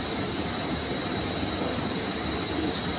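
A chemical tank's mixer motor runs in a textile dyeing plant, giving a loud, steady mechanical drone with broad hissing noise that holds constant throughout, with no voices.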